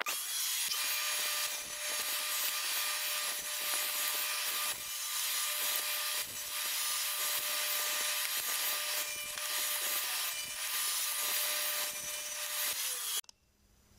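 A table saw rips through wood pieces in a sustained, loud, steady whine with a constant motor tone and repeated rasping cutting passes, cutting off abruptly near the end; no one speaks.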